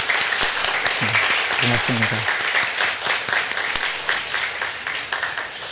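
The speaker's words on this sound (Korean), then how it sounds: "우리 박수로 환영하겠습니다." A church congregation claps steadily to welcome a visiting pastor during a Sunday service, the dense applause continuing throughout while someone speaks briefly over it partway through.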